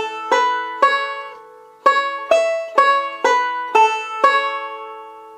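A banjo plays a short fiddle-tune phrase from Eighth of January: about nine bright plucked notes and chords in an uneven rhythm, each ringing and decaying, clean and close with no talking.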